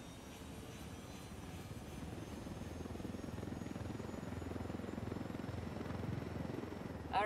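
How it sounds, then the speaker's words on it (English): Helicopter in the video game Ghost Recon Wildlands, a steady rotor thrum and engine drone running continuously at moderate level, with no talk over it. "let's grab this heli"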